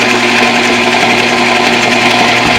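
An electric mixer runs at medium to high speed creaming sugar for a lemonade cake, giving a loud, steady, unbroken motor whir from start to finish.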